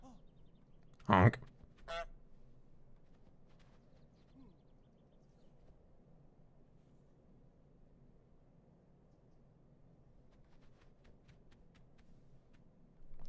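A cartoon goose honking in Untitled Goose Game, one sharp honk near the start followed by a second quick one, then quiet game ambience with faint background sounds.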